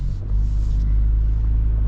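A 2025 Toyota 4Runner TRD Off-Road in 4WD low gives a loud, steady low engine rumble as it climbs a steep loose-gravel incline of about 30 degrees, heard briefly and close.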